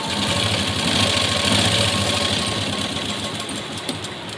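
A sewing machine stitches fabric strips together for piping, a steady, loud mechanical whirr that runs without a break and eases slightly toward the end, with no talking.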